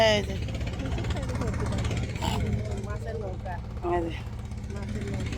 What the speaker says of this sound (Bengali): মাছের নৌকা আসতেছে